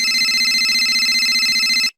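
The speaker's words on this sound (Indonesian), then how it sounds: "Saat aku kembali ke dalam kamar, HP-ku berbunyi." A mobile phone rings at night with a loud, bright electronic ringtone that holds steady and close, then cuts off abruptly.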